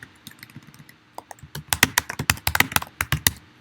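Rapid clicking keystrokes on a computer keyboard while letters are typed, sparse taps at first and then a quick burst of crisp, close clacks, no speech.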